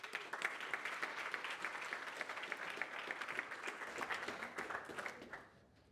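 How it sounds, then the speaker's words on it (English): Audience applause at a demo day for aquaculture startups, steady clapping from a fairly large crowd that holds for several seconds and then fades out quickly. "Getting clapped on stage before I even said anything."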